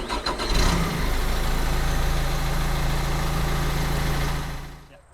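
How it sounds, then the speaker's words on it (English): Diesel engine on an equipment unit cranking briefly, then catching and settling into a steady, loud, close idle before winding down at the end. "now that the gauges are on, we can start the engine."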